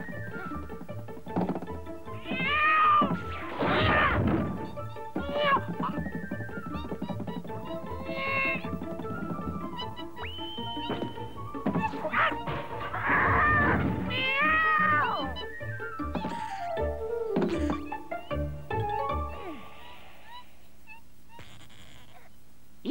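A cat meows repeatedly, several drawn-out cries with pauses between them, close and fairly loud, with no talking.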